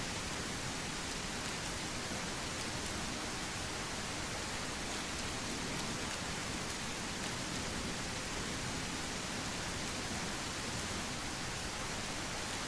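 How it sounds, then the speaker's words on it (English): Heavy rain in the survival video game SurrounDead, a dense, loud, unbroken hiss of downpour with faint scattered ticks, continuous throughout with no voices. "Dude, the rain is so loud."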